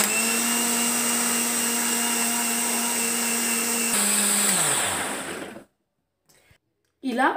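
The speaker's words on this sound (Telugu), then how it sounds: "ఇప్పుడు మిక్సీ వేసుకుందాం" A kitchen mixer grinder blending a hair growth juice whines loudly and steadily for about five seconds, then winds down and stops, leaving near silence before a brief noise at the end.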